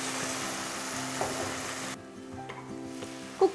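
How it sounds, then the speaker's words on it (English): Tomato puree hits browned onions in a hot pan, setting off a loud, steady sizzle that suddenly drops to a softer frying hiss, with a couple of clinks near the end. "Once the onions are nice and brown, add the tomato puree."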